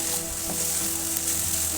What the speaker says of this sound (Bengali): ক্যাপসিকামগুলোকে আবার ভাজার জন্য সামান্য তেলেই কিন্তু ভাজতে থাকবো